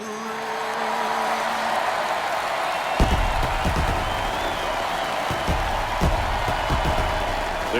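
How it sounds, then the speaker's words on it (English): Cheering stadium fans roar in MLB The Show 22, with a sustained loud crowd swell and applause rising sharply after a quieter opening. "The crowd is amped up, ready to get this season underway"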